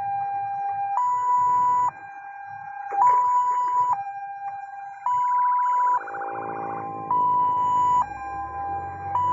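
An ambulance siren from a hospital emergency unit wails loud and close, alternating steadily between two tones in a regular hi-lo pattern, with a brief warbling yelp partway through.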